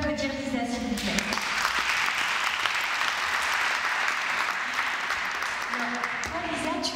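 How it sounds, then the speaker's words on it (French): A festival audience applauds steadily for nearly the whole stretch, a dense even clatter of many hands, with a voice talking briefly at the start and again near the end. "On peut applaudir Lisa, s'il vous plaît"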